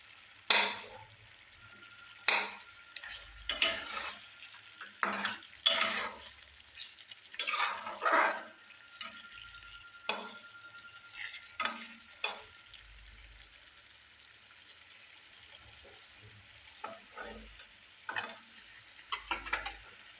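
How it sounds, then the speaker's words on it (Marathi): Eggplant frying in a pan of gravy, a soft steady sizzle broken by repeated scraping strokes of a spoon stirring the pieces, close by and without talk. "वांगी शिजतलेत."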